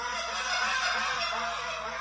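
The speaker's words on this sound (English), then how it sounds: "This guy just did hiccuping, high-low clucking, stall clucks, and a lot of murmuring, but he made it sound so good." A goose call is blown in a live goose-calling contest, producing a dense, continuous stream of honking and clucking notes, loud and steady throughout with no talking.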